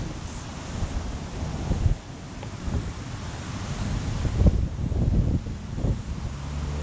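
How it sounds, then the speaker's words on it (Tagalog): Strong wind in New Zealand buffets the microphone with low rumbling gusts over a steady rushing roar, loud and continuous with surging peaks. "Malakas na ang hangin."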